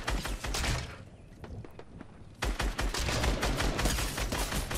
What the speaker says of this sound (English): We are getting shot from our right, just be warned